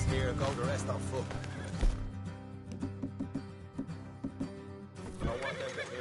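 A horse in the Red Dead Redemption 2 western game gives a loud whinny, followed by hoof clip-clops and snorts, with character voices speaking near the animal.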